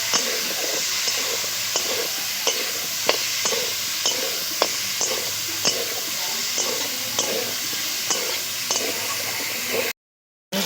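Chicken pieces with salt and turmeric frying for a mustard chicken curry, a loud, dense, hissing sizzle with regular scraping strokes of a spatula, close up, cut off abruptly near the end.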